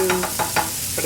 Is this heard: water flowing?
no